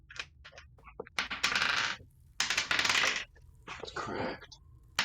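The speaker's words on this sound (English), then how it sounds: "Really really loud dice" Dice clatter loudly across a table during a tabletop role-playing game session, with three long rattling rolls separated by short pauses and brief clicks in between.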